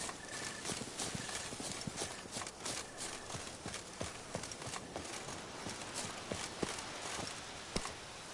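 Horse hooves clop at a walking pace in The Witcher video game, an even, repeated clip-clop under a constant wash of outdoor game ambience, moderately close and fairly quiet.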